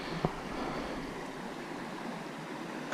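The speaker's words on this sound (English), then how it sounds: "Leave you with a little parting shot of French Creek here." French Creek in Butte County, California flows in a soft, continuous wash of water, faint and steady, with a brief knock near the start.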